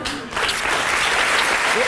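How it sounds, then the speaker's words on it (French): A TV studio audience on the French talk show Nulle Part Ailleurs bursts into loud, dense applause, sustained and close, with a faint voice briefly audible near the start. "Je vous embrasse fort, on l'applaudit"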